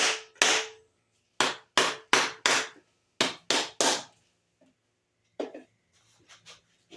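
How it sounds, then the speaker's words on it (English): A rubber mallet strikes washers on a part of a 20hp Vanguard V-twin race mower engine. Sharp close impacts come in irregular groups of one to four, then a few fainter taps toward the end. "Usually those washers just come off when I hammer that."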